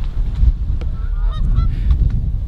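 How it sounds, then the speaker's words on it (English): Canada geese honking outdoors in North Wales, several repeated calls at a moderate distance over steady low wind rumble, with no talking. "Oh, got some Canadian geese over there."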